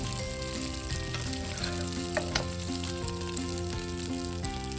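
Hilsa fish pieces frying in shallow oil as they are lifted out one by one, a steady close sizzle with occasional clicks of a utensil against the pan and a low kitchen hum beneath.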